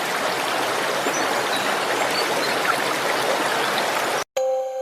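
A river stream flows in a continuous loud rush of water, steady throughout and close at hand, then cuts off abruptly near the end before a brief different sound.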